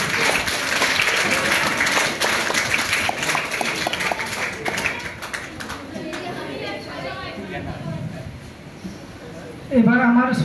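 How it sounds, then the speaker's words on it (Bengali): A crowd at a school farewell function applauds in a sustained, dense round of clapping that gradually thins out, with chatter rising at the end. "তো আমি সবাইকে অনুরোধ করব ওনাদের জন্য একটা জোরে হাততালি দেওয়া হোক"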